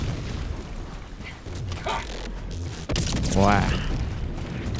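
Bomb going off in Helldivers 2, a loud, rumbling blast that lands suddenly after rough ambient noise, followed by a sustained boom, with players talking around it.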